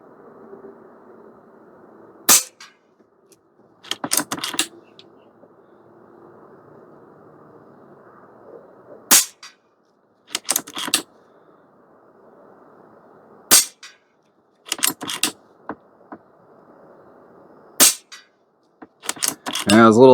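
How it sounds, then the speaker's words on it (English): Sharp, loud shots from a Stoeger XM1 Bullshark .22 PCP airgun firing pellets from a bench rest, about a dozen cracks coming singly and in quick pairs with pauses between them over a low steady background hum. "Got 5 shots in the mag, and then I'll do a mag change and we'll shoot a couple more groups"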